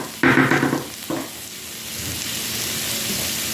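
Diced onion drops into a hot pan, giving a brief loud hiss and crackle that settles into a steady, softer sizzle, heard close with no talk.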